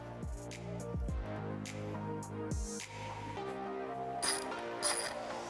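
A 17 mm socket wrench loosens the upper rear shock mounting nut on a Yamaha XT250. It gives a few sharp metallic ratcheting clicks in short strokes, close up and fairly quiet, over a steady background hum.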